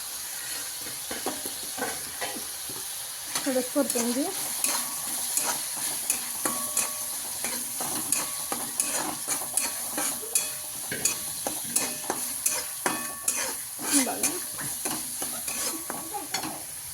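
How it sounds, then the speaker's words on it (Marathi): Masala with tomatoes, ginger and garlic fries in a pan as a spoon stirs it, giving a steady sizzle under repeated close scraping strokes throughout. "अद्रक लसूण मस्त जरा हलवून घ्यायचं"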